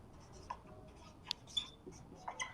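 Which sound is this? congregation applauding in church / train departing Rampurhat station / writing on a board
writing on a board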